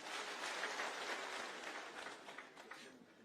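Applause from a crowd at a Kenya Kwanza campaign rally in Busia, a dense, fairly distant wash of clapping that holds steady and then thins out near the end.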